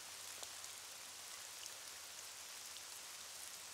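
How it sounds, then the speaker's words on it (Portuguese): Rain falls in a cartoon as a faint, even hiss of many small drops. It is steady and quiet throughout with no speech. "Se a gente ignorar a chuva, ela irá embora mais rápido."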